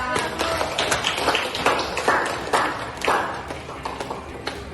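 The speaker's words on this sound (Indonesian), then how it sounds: "Kita aplaus untuk Kesha." Classroom applause for a student after a presentation: a burst of many hands clapping at once, dense and steady, fairly close, with scattered sharper claps over the whole span.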